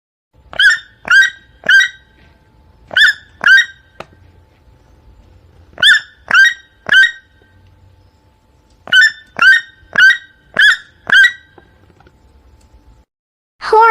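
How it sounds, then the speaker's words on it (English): A toucan gives loud, sharp croaking calls in quick bursts of three to five notes, each burst followed by a pause, with nothing else around. "Toucan."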